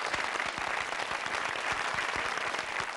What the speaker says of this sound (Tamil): ரெண்டு பக்கமும் ஒரு பெரிய கைத்தட்டல்கள் உங்களுக்கு.